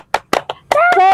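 A few sharp, close hand claps in a short rhythmic kindergarten spirit clap, followed by a speaking voice that takes over near the end.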